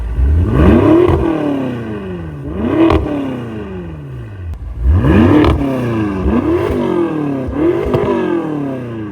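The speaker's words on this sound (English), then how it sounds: "I'm dying to hear how this car sounds exhaust only. So let's warm it up" A loud BMW M5 engine, modified for about 750 horsepower, revs repeatedly, climbing and falling in several sharp bursts of throaty exhaust roar, close by with no voices.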